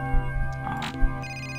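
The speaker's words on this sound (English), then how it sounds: "Phone is ringing" A telephone rings in the video game Commander Blood, with a short electronic ring standing out over a steady tonal background.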